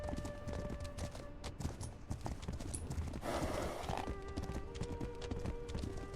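Rhythmic clip-clop of horse hooves trotting in the video game Legend of Khiimori, steady and fairly close, with a brief whinny and soft background game ambience.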